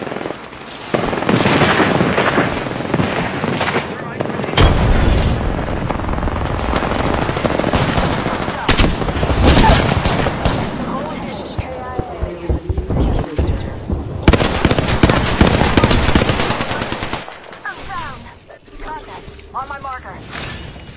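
A fire mission in the video game Squad brings dense automatic gunfire and booming explosions that crackle and rumble almost continuously and loudly, with voices talking over the combat.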